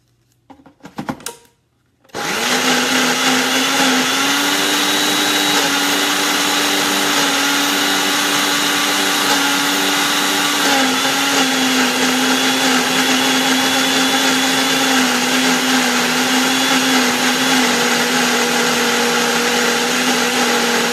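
Countertop blender whirring through a dragonfruit smoothie bowl mix, starting after a few clicks and handling sounds, then running as a loud, steady high-pitched motor whine with a slight pitch dip midway, continuing to the end.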